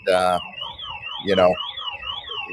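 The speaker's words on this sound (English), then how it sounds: "you can hear the car alarms going off over by them" Car alarms wail in the distance with a looping, rising and falling electronic tone, broken twice by short loud bursts of other sound.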